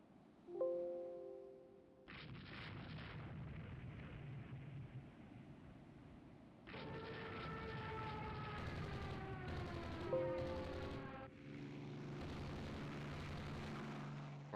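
In Rule the Waves 2, bombs hit a Minnesota class battleship in a naval fleet action, giving repeated heavy booming bursts. Whining, siren-like tones rise and fall between them, with no talk.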